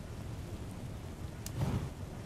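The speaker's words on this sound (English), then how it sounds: "I'm just waiting for that rain to go away." Steady rain falls in the survival video game Mist Survival, an even hiss with a low rumble swelling briefly near the end, no voices.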